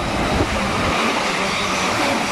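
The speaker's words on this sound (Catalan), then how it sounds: "Próxima circulación. Un tren sin parada." Non-stop train rushing through La Llagosta station, a continuous loud roar of wheels and wagons passing close, with a faint station announcement voice underneath.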